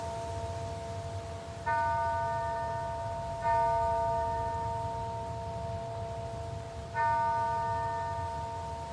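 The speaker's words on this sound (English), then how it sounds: "Tonight, the bell tolls again." Three slow strokes of a tolling bell, each a clear metallic ring with layered overtones that lingers and fades before the next strike, heard moderately faint over a low, dark ambient rumble.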